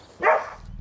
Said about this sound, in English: Oh, the attack of the dogs.